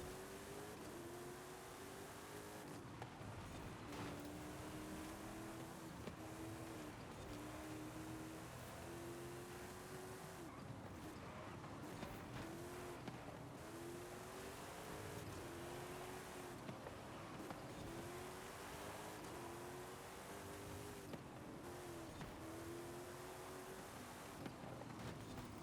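A 2020 Toyota Supra races in Forza Horizon 5, its engine droning steadily and rising in repeated pitch sweeps as gears change, with a constant rushing noise of road and wind underneath, fairly faint and without talk.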